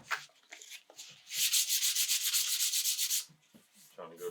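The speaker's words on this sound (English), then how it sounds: "So sand all that with the sandpaper real quick." A watermelon guitar body rubbed by hand with sandpaper gives close, rhythmic scratchy strokes, a few short passes and then a long fast run of rapid back-and-forth rasps before stopping.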